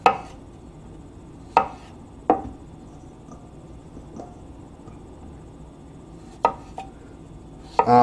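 Sharp knife chops on a cutting board while preparing ingredients for chicken marsala in a home kitchen, six or so isolated strikes spaced irregularly over a quiet room with a faint insect-like hiss.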